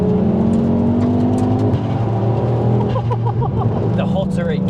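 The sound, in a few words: Ford Focus RS MK2 hot hatch engine revving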